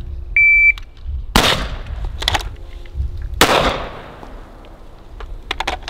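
During rifle and pistol training, a shot timer gives one short electronic beep, followed by two sharp, loud gunshots about two seconds apart that ring out with echo. Fainter clicks and distant pops follow.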